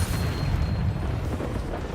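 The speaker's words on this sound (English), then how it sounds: "Hit an enemy with a spider explosion." A spider enemy explodes in the Hogwarts Legacy video game, giving a low, rumbling boom that swells and then lingers as a dull roar for a couple of seconds, with no voices over it.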